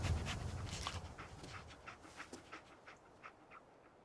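Dogmeat, the dog companion in Fallout 4, pants close to the listener in quick rhythmic breaths that start loud and gradually soften, with no talking over them.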